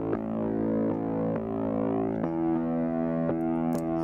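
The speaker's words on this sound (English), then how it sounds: "It's doing like super heavy compression and some distortion" Bass layer run through Soundtoys processing with super heavy compression and distortion, a sustained buzzy tone with gritty upper mids that shifts pitch partway through, punctuated by regular clicking note attacks, moderately loud with no speech.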